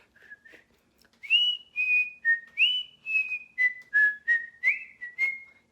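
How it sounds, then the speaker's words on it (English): A person softly whistles a simple tune in a car moving down a street, a string of about a dozen clear, sustained notes in a steady, bouncy rhythm, heard alone without speech. "Uncle Sylvester quietly whistled as the car moved down the street."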